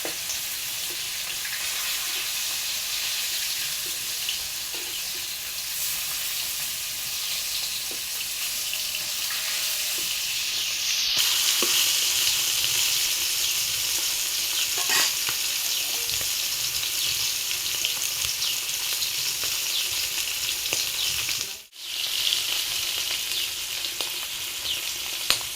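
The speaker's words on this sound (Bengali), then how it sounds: "যখন না ইলিশ মাছ ভাজতেছে," Hilsa fish frying in a pan in a village kitchen, a steady loud hiss of hot oil that swells midway, with faint clinks and a brief dip near the end.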